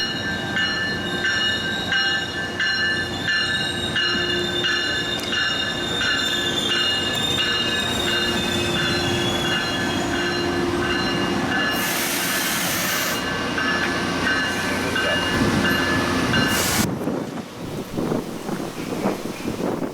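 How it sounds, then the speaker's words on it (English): Tri-Rail train P636 rolls past northbound with a long, steady rumble and sustained high wheel squeal, loud and close, with wind buffeting the microphone and no voices. "Another Tri-Rail train came in. This was train P636 bound for Magonia Park,"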